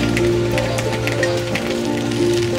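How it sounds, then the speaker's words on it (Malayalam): Heavy rain pours onto an Istanbul street near the Grand Bazaar, a steady, dense hiss of drops that never lets up, with a constant low hum of city traffic running beneath it. "മഴ കനത്തു തുടങ്ങി."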